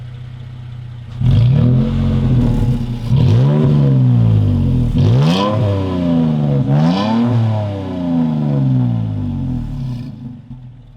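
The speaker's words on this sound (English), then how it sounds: "Sounds really, really good for a V6 truck, actually." A V6 Toyota Tacoma pickup's engine revs up in several deep, throaty surges, each rising and falling, with a rumbling exhaust note close by and no talking.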